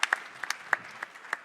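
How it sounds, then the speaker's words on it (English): Sparse, quiet clapping from a conference audience after a talk: scattered individual claps in an uneven rhythm, thin and brief rather than a full ovation. "Round of applause."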